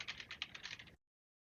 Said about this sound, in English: Can you hear my keyboard just like, tapping like crazy because I keep hitting the keys like so much?